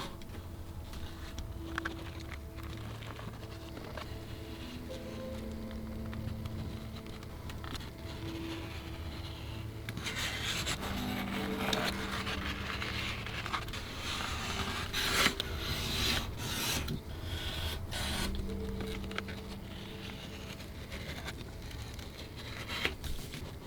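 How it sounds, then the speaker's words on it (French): Leather stiff enough to be cut through with a utility knife, a handbag being made; steady close rasping and scraping strokes run throughout, growing busier and louder in the second half, with no voices. "cette fois-ci, je peux vraiment tout découper au cutter, puisque le cuir est suffisamment rigide"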